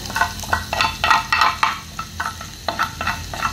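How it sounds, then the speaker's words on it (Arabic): Half a spoonful of garlic frying in sausage-flavored oil in a pan, a bright crackling sizzle that swells in bursts as it is stirred, close and fairly loud with no talking. "حطيت نص معلقه ثوم تتحمر كده"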